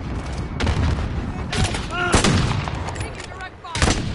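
SP-R rifle shots in a video game fire as a few separate sharp cracks with gaps between them, loud and close, amid game effects and someone talking over them.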